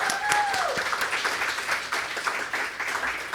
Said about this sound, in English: So a little round of applause for Miriam.